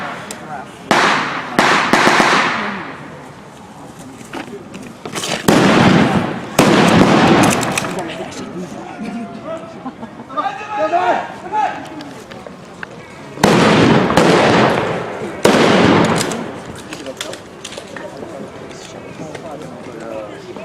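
Machine gun fire at a World War 1 reenactment, loud rapid bursts repeating several times with pauses between them. People talk in the background.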